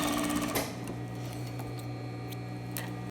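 A sewing machine stitches the second dart in folded skirt fabric, a steady close mechanical whir running throughout with a brief bump near the start.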